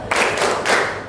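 A group claps together in a short motivational cheer, two bursts of loud, dense hand claps close by with no talking.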